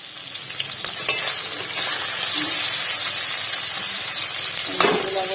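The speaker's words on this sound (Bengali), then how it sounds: "ছোটো মাছগুলো দিয়ে দিচ্ছি ভালো করে খাসতে হবে" Small puti fish frying in hot oil in a wok, a steady loud sizzle and hiss with a couple of sharp utensil clicks, no talking.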